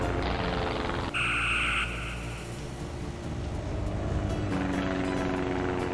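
A biplane engine drones steadily in the Star Trek: Judgment Rites video game, a continuous buzzing hum with a brief brighter tone layered in near the start.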